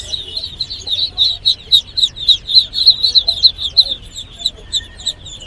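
A flock of fourteen-day-old Tiger chicks calls close by in rapid, high, overlapping peeps and clucks, with a low hum underneath.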